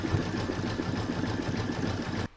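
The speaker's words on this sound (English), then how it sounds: "I'm going to pop that back in my machine and stitch round number five, and that's going to do the zigzag along here to join it." An embroidery sewing machine stitches a zigzag with a steady, fast mechanical whirring and rapid needle chatter. It is close and continuous and cuts off abruptly just before the end, with no talking.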